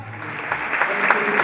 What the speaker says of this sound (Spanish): para que le brindemos otro aplauso muy cariñoso